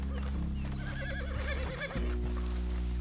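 A horse in the video game Red Dead Redemption 2 neighs with a wavering whinny over a low engine-like rumble and hoof clatter.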